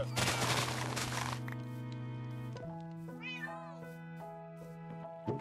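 A Minecraft cat meows clearly amid game sounds, a short whining mew standing out against steady tonal hums and a burst of crackling noise at the start.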